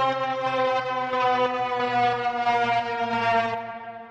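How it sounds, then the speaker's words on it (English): Trailer-style riser sound effect built around a siren, a dense sustained stack of harmonic tones that holds steady and pulses slightly before fading at the end, loud and alone. "So, you know, that kind of trailer rise sound."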